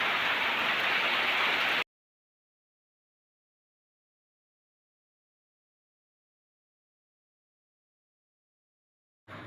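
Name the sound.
heavy rain falling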